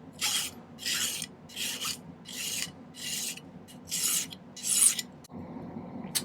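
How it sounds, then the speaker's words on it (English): A metal hand file is drawn across a silver ring in seven steady rasping strokes, close and evenly spaced, followed by a brief pause and a softer scrape. "run the file over this a few times"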